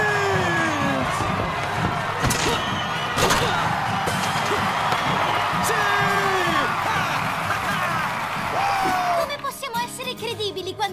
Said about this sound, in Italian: Facciamo un bel applauso ai nostri Blue Devils!